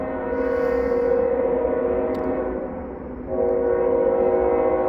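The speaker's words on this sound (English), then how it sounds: "this train is just loud this evening" A train rumbles loudly in the evening heard from nearly a mile away, a steady heavy drone of rolling cars with a brief dip in level before the noise swells again, continuing throughout.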